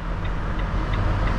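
A truck engine in a truck simulator video game runs as a steady low rumble while driving, with faint periodic ticks over the drone; brief and with no talk.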